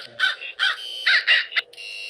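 Crow caws from the video game Hello Neighbor, several harsh, separate calls in an uneven rhythm, close and clear with no talk over them.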